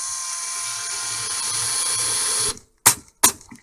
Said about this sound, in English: Now, at a slower speed, it didn't drive it all the way in, but it is doing the hammer action thing